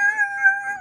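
Dog howling, one sustained tonal howl held briefly and steadily, clear and fairly loud, alone with no talking.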